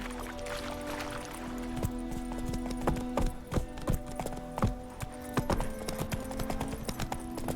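Roach, a horse in The Witcher 3, gallops with steady clip-clop hoofbeats, fairly close and clear. A rumbling ambient bed runs underneath, with no talk over the running hooves.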